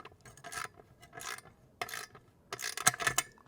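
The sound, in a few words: tightening car canopy bolt with Allen key and socket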